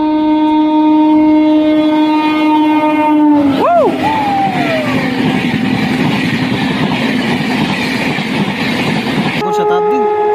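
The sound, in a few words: passenger train running, overtaken by other trains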